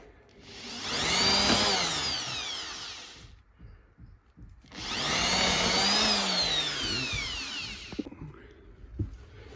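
A power drill whines through two long bursts, drilling a pilot hole into wood, rising and falling in pitch, with a short pause and some handling clatter between them.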